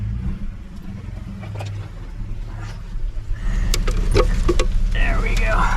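A pickup truck engine revs hard while the truck sits stuck in deep blizzard snow at night, a low steady rumble that swells louder in the last few seconds, with voices talking over it.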